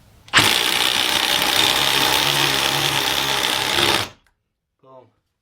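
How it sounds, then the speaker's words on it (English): Milwaukee M18 1/4-inch hex impact driver hammering a 1/2-inch concrete bolt: a loud, continuous rattling impact burst of about four seconds that stops abruptly, followed by a brief faint voice. "You can drive concrete bolts. 1/2 inch concrete bolts with this."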